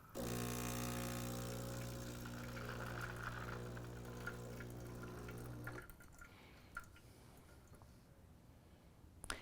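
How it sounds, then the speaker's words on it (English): A Gaggia Anima espresso machine dispenses hot water through its frothing arm with a droning pump whine and splashing flow that cuts off abruptly partway through, leaving faint drips and light clicks. "we can just dispense that hot water straight through the frothing arm"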